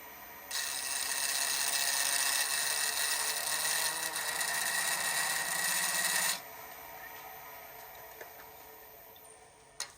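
A texturing tool rasps against a wooden lantern ornament spinning on a lathe, a loud steady buzzing scrape for about six seconds that stops abruptly, leaving quieter lathe hum.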